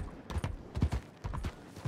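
Several clopping hoof beats in an uneven rhythm, fairly close, with no talking, from a horse in the video game Red Dead Online.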